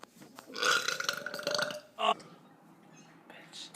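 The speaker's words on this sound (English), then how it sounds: "Burping contest" A long, loud, rasping belch rolls out during a burping contest, followed by a short sharp second burp and quieter murmuring afterward.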